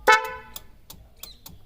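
Short toots of a Creta's genuine horn fitted to a Brezza, one loud bright blast followed by several quick clipped beeps, close by.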